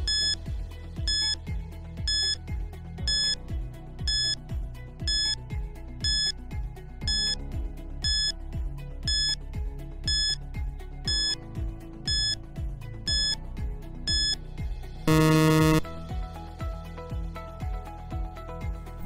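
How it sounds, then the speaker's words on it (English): A countdown timer alarm beeps in a steady, evenly spaced pattern of short loud tones, repeating throughout, with one brief harsher burst near the end. "Timer starts now."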